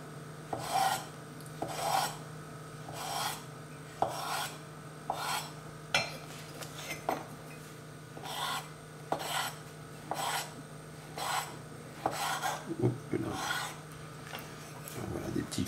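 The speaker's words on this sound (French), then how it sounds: "sur la mangue, on va venir découper des petits cubes." A knife slices peeled mango into small cubes on a board in a home kitchen, giving about a dozen evenly spaced, rasping cuts in a steady rhythm, close and moderately loud, with no talking.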